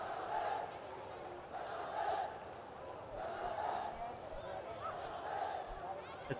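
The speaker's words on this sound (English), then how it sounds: "And now the crowd getting behind the team." A stadium crowd at a women's football match between Nepal and Bangladesh cheers and roars in swelling waves, heard steadily beneath a commentator's voice.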